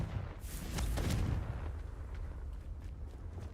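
The Confringo explosion spell in Hogwarts Legacy goes off as one rumbling blast that swells early and fades into a low roar, fairly soft.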